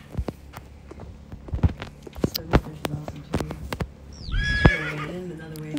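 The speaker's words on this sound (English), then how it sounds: "beautiful horse." A horse neighs loudly at close range on a nature walk, a rising whinny near the end, preceded by irregular hoof clip-clops and footsteps.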